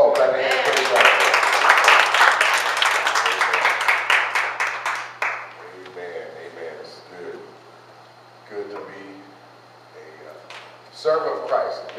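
A church congregation clapping hands in a burst of rapid, loud claps that fade out after about five seconds, followed by a voice speaking with scattered quieter claps.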